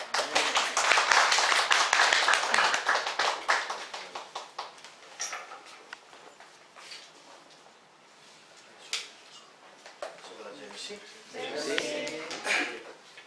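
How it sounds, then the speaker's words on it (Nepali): A church congregation claps to welcome the pastor, brisk close hand claps that swell and fade, returning in bursts with voices speaking between them. "फ्रन्टमा वचनको लागि सबैले ताली बजाउँ।"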